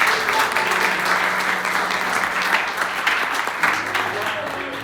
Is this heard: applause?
yes